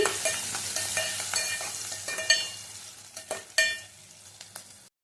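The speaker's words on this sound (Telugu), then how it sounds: "పోపుని మొత్తం బ్రౌన్ కలర్లోకి వచ్చేటట్టు వేయించుకోవాలండి." Tempering spices sizzle and crackle in oil in a pan while a spoon stirs, with a few sharp scraping clacks, close up and without voices.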